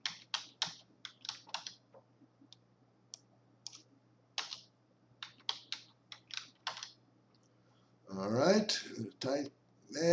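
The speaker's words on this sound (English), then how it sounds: "Type that in." Computer keyboard typing while entering details during a WordPress install on 1and1 hosting: close, quick bursts of key clicks in irregular clusters, with a louder burst of speech near the end.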